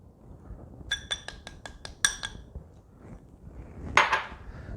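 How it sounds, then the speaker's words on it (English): A spoon stirring keto mug cake batter with cheddar cheese in a mug, tapping out a quick run of sharp clinks, then a lone scrape and a brighter clatter later, all close against a quiet background. "then I'm going to mix that all together"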